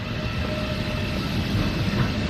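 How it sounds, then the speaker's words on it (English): A train rolls past near Carlisle as a steady, broadband rumble with a low rail roar that holds at an even level throughout, with a faint tonal whine above it and no voices. "And there goes another train."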